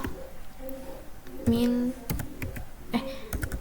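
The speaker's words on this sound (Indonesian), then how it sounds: "lalu kita ketik mkdir, misalnya Almira" Keys clack on a computer keyboard as a Linux mkdir command is entered at a command line, a quick run of close, uneven taps over a faint low hum, with a person speaking alongside.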